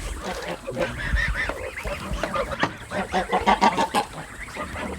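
A flock of pedigree geese on a Russian farm honks in a busy chorus of overlapping calls, loud and near, with repeated bursts throughout and no talk.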